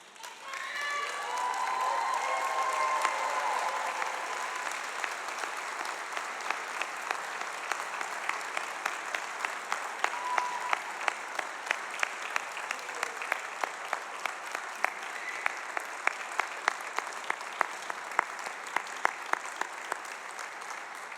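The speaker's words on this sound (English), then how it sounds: "give your families and friends a round of applause" Graduates in a Manchester degree ceremony hall give their families and friends a long, full round of applause, a dense sustained clapping crowd with a swell early on, a brief voice near the start, and sharper claps standing out later.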